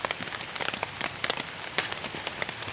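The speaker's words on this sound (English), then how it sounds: "It's raining." Rain patters steadily on a forest campsite, dense scattered drops striking close surfaces in a continuous hiss with sharper taps, no voices.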